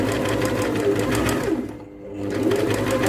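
A sewing machine stitching fabric, a loud, close, rapid mechanical whir that runs steadily, eases off briefly partway through, then picks back up to full speed.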